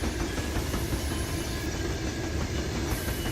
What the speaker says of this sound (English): Here comes our mid-train DPU with a extra locomotive behind it.